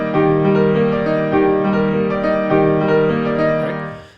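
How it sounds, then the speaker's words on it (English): 3 against 4 polyrhythm played on a sustained, organ-like keyboard instrument: layered held tones with overlapping pulses, loud and close, with no voices. "I could do what's called a 3 against 4 polyrhythm."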